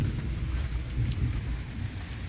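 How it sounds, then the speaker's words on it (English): Steady rain with a deep, rolling rumble of distant thunder running low underneath, continuous throughout. "you hear that thunder?"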